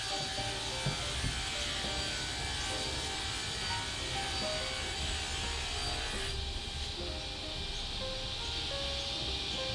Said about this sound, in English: the ply with my sliding table saw. Great machine. And ripping it to width.